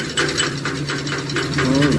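Old van engine with a failed big end, a rapid rattling mechanical knock repeating steadily and fairly close under a low droning hum, heard in a radio comedy setting.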